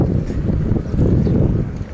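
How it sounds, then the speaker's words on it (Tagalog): Wind rushes steadily through trees, a broad, continuous roar buffeting the microphone with no other clear sounds. "Hinahampas ng hangin mga kahoy."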